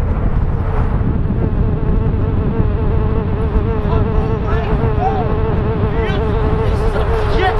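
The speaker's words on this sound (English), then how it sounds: "Bees are fucking scary." A bee buzzing loudly and continuously close by, its drone wavering slightly in pitch throughout with no other sounds.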